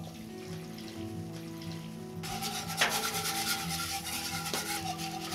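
Milk and cream whisked in a pot over a fire, a steady scraping, swishing rub that gets louder and busier partway through, close up with no talking.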